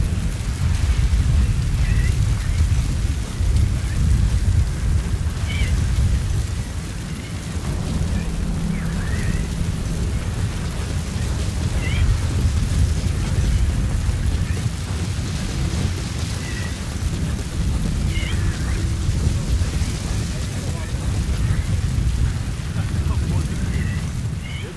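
A sandstorm in Metal Gear Solid V: The Phantom Pain makes a dense, steady, loud roar of wind and blowing grit that lasts throughout with little variation.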